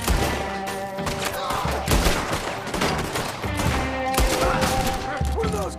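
Enemy gunfire in the Red Dead Redemption 2 video game, rapid overlapping shots and thuds in dense bursts, loud and close over game music and ambient noise.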